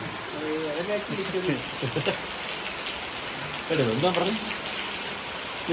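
Rain falls as a steady patter and hiss in the background while a person talks in the foreground.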